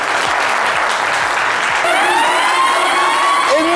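Loud, sustained applause from a crowd fills the whole stretch, with a rising whistle-like tone cutting through near the end.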